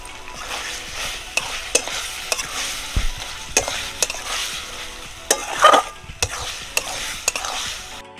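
Chicken filling with soy sauce fries in a pan, a close sizzle broken by frequent spatula scrapes and taps, with one brief louder burst midway and no talking.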